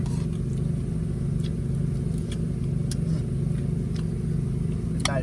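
A water pump engine runs continuously at close range outdoors in a forest, a steady, droning, constant low rumble with occasional faint clicks and no talking.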